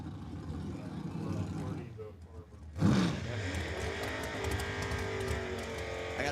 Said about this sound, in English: Big burnout from Lane.